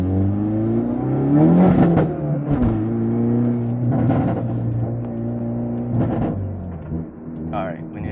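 A car with a loud, modified exhaust accelerating on the road, its engine rising and falling through several revving pulls, heard close from inside with people talking over it.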